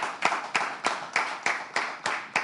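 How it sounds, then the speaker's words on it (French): Slow rhythmic clapping during a candidate's introduction at a semi-final event, about eight evenly spaced claps, close and clear, with no cheering evident. "On applaudit, on l'acclame ici,"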